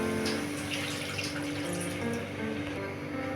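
Water pours steadily into a pan on the stove holding cauliflower florets, a continuous splashing, hissing stream close by that runs throughout with no pauses and no voices.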